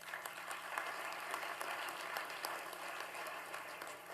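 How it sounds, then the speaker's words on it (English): Applause from an audience at an event, a steady, fairly faint wash of many hands clapping for a few seconds without talk. "Can we give the state a round of applause for that?"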